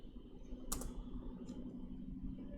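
Faint keystrokes on a computer keyboard entering a value, just a couple of soft taps over a steady low background hum.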